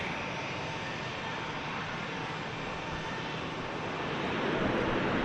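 An Airbus A380 jet on the runway at Manchester Airport makes a steady, loud, broadband engine roar that holds constant and swells slightly near the end.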